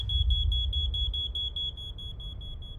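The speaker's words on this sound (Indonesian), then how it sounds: "Di lantai 4 Menara Grenfell, Behail Lukebede terbangun karena alarm asapnya tepat sebelum jam 1 pagi" A smoke alarm in a flat in London's Grenfell Tower emits a rapid, continuous shrill beeping over a low rumble, loud and steady throughout, with no talk.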